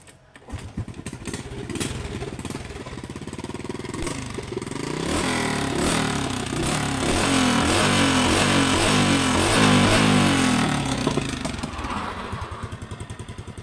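A cheap used motorcycle engine runs close by, idling roughly and then revving up into a sustained louder drone before easing back to a ragged idle.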